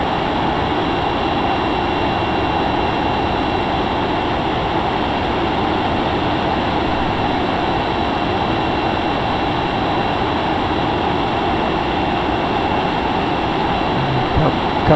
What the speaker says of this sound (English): Kick on the afterburners.